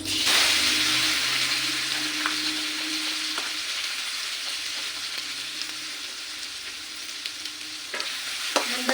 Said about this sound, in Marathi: आपलं तेल चांगलं तापलेलं आहे आपण याच्यामध्ये अद्रक लसूण थोडंसं खोबरं हिरवी मिरची पुदिना लसूण याची पेस्ट घालून देऊ